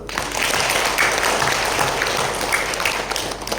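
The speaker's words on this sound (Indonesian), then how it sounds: "Tepuk tangan loh" An audience at a company training session led by the director applauds, with a thick, steady wash of clapping that holds at an even loudness from start to finish.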